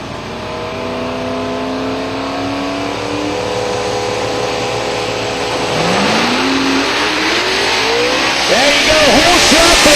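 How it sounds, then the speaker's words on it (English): Drag racers launch at a drag strip, including a turbocharged Mustang, with engines revving hard and pitch sweeping upward as the cars pull away. A track announcer talks over the loud racing noise, which grows denser toward the end. "There you go, whole shot for Pearson. He's pulling away."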